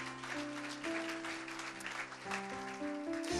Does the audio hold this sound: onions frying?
no